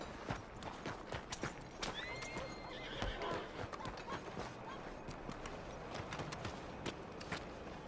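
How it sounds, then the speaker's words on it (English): Steady clip-clop of horse hooves throughout, with a neigh partway through and faint mechanical rattling in the background. "That's a fine horse you got there."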